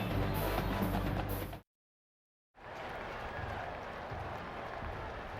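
Oklahoma Sooner fans in the end zone of a football stadium during a 2007 game against Texas, roaring and applauding in a loud, sustained wash of crowd noise, broken by a brief total dropout before resuming.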